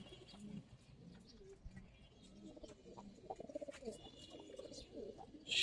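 Old-breed Giribaz pigeons in a loft coo softly, faint low pulsing calls with a quick burst of throaty notes, alongside light rustling and scattered chirps.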